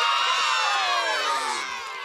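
A cartoon crowd cheers and shouts loudly and continuously, a dense roar of many voices that slowly eases off.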